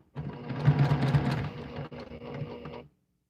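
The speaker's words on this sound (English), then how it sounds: "I'm going to backstitch on this" A home sewing machine stitches and backstitches a seam through fabric, a steady mechanical whirr with a rhythmic needle patter running for about three seconds before stopping, with no talking.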